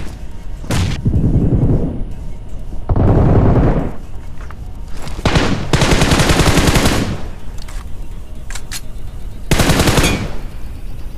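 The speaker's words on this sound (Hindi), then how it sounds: "बहुत उल्टी सीधी फायरिंग इसने की।" Machine gun fire in the PUBG Mobile battle royale game, Dragon Ball update mode: several loud bursts of rapid automatic shots separated by short pauses, some with booming impacts.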